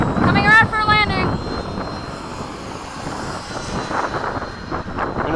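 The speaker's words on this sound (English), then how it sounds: "it's nice to see the plane fly slow" A model F-22 jet plane flies a low, slow landing approach, its engine a steady, moderate whine and rush that runs throughout, with a voice speaking briefly at the start.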